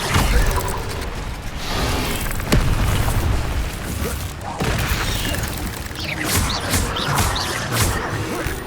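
In Hogwarts Legacy, the Incendio fire spell is cast several times, giving sharp whooshing bursts and booming impacts mixed with clanking, rattling game sounds, loud and close.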